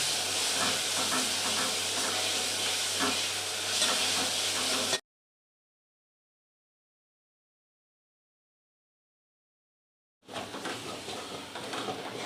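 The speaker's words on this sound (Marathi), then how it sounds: "आता आपण ही लसूण कोथिंबीर आणि आल्याची पेस्ट तेलात फ्राय करूया ही कांद्यासोबत अशी मस्त फ्राय करून घ्यायची" Ginger, garlic and coriander paste frying in oil with onions for Kolhapuri matki misal, a steady hissing sizzle that cuts out to silence for several seconds, then resumes.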